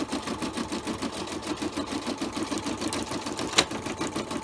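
Brother embroidery machine stitching an applique tack-down on floating fabric, a fast, even mechanical chatter of needle strokes close up, with one brief sharp click near the end.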